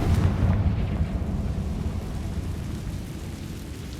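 A loud booming fire-spell explosion in the Hogwarts Legacy video game, a heavy low rumble that hits at once and slowly fades over several seconds with no talking.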